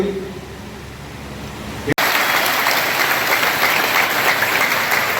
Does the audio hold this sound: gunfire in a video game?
no